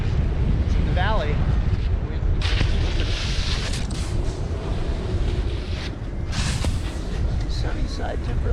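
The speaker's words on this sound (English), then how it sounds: "Weirdly windy right here." Strong wind in a valley at Waterville Valley, New Hampshire, buffets the microphone in a continuous low rumble, with gusts rising and falling throughout.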